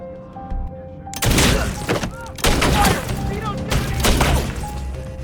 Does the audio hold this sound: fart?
no